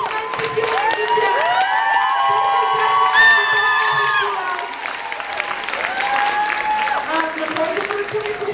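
A crowd at a K-pop award ceremony at an anime convention cheers, screams and applauds loudly and without a break, with high-pitched shouts rising over the clapping.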